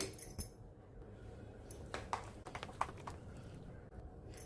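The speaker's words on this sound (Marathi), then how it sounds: "आता हे मी व्यवस्थित असं फेटून घेते" Corn appe batter being whisked by hand in a bowl, a quiet scatter of light clinks and scraping taps from the utensil against the bowl, close and faint with no voices.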